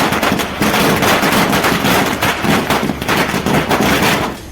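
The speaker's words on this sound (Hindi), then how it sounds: "और जमकर आतिशबाजी की।" Firecrackers set off in quick succession at a BJP workers' celebration in Bageshwar, in the hills of Uttarakhand, marking the UCC bill: a loud, dense, continuous crackle of rapid pops that fades at the end.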